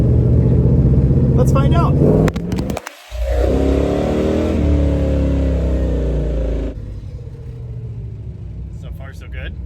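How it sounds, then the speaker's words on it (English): A 1973 Dodge Challenger with 4.30 Suregrip gears accelerates hard on a test drive, its loud engine droning and rising through the gears with a brief drop at a shift, and someone speaks briefly at the start. "I gotta give it the world's fastest test drive"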